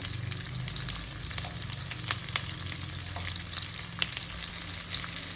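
Mustard seeds, fenugreek, small shallots and garlic fry steadily in a hot pan, a dense continuous sizzle with scattered pops and crackles, close and fairly loud, no voices.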